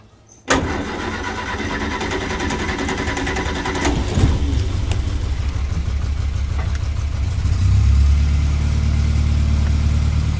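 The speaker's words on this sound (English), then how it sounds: "I haven't started this car for about a week, so did need to crank for a minute" An Austin-Healey Bugeye Sprite, a drivable restoration project, starts after a sharp click, then a loud engine catches and settles into a steady idle that swells slightly near the end, with no talking.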